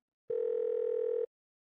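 A phone dial tone from the video game Murder by Numbers sounds as one clean, steady electronic tone lasting about a second, with silence before and after.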